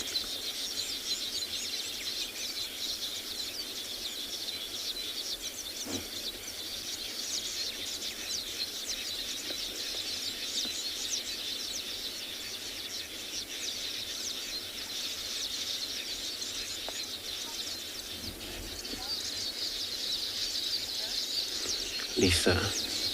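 Birds call and chirp at a waterhole during a sunset safari, a steady chorus of high twittering over a constant background, with a few brief louder notes and a person talking faintly beneath.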